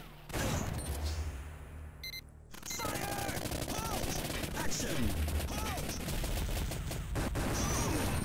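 Rapid gunfire in the arcade shooter Time Crisis, with quick bursts and single shots over busy game noise and music, fairly faint overall, with a voice speaking at times.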